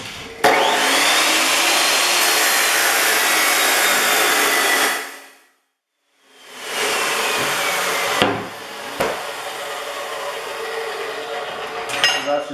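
A power tool, likely an abrasive cut-off saw, cuts steel posts for a welding workbench in a garage: a loud continuous grinding whine, a brief silent gap midway, then a second long cut with sharp scraping bursts.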